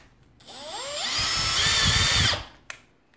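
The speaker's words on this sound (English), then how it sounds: "Grab the drill, put in some pilot holes." A power drill spins up with a rising whine, bores pilot holes steadily for about two seconds during workshop pegboard assembly, then stops, followed by a brief click.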